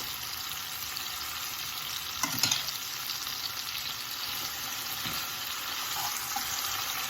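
Biscotti being stirred through frying garlic and oil in a pan gives a steady, soft sizzle with a brief clatter of spoon against pan partway through, heard close and without talk.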